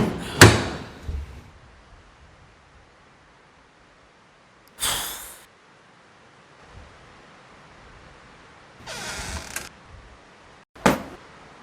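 A door being banged and creaking, several separate loud knocks and thuds spaced apart across quiet pauses, close by, with no talking.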